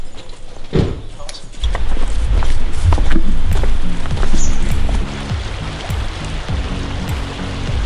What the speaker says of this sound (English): This is the water that goes to the water supply for Medellin.